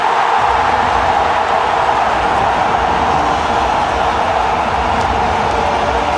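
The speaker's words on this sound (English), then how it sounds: "You get a cheer." Crowd at the 2011 ICC World Cup Final cricket match between India and Sri Lanka roaring after a wicket falls, a dense, sustained stadium cheer that fills the whole stretch without letting up.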